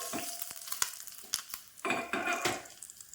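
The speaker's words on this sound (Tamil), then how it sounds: "கொஞ்சம் நல்லெண்ணெய் ஊற்றி தாளிப்புக்கு கடுகு உளுந்து பருப்பு போட்டுருக்கிறேன்" Mustard seeds and urad dal crackling in hot sesame oil for a tempering, sharp pops and sizzles in bursts with a few metallic scrapes of a spoon against the pan.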